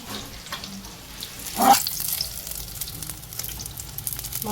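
Food frying in a pan, a close steady sizzle with a brief louder hiss burst early on, then continuing crackle and bubbling.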